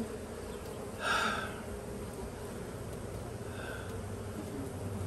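Honeybees in an open beehive give a continuous low buzz, with a louder close flyby near the start and a fainter pass later.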